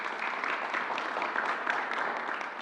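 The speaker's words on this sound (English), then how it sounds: "let's give them a round of applause, please" People at a press briefing in New York City clap in a steady, moderately faint round of applause lasting a few seconds, with no talk over it.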